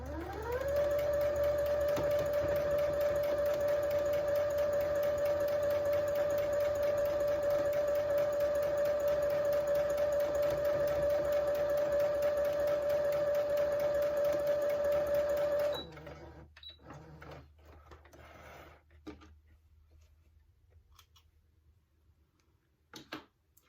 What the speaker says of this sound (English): I'm going to sew it using my 1/4 inch seam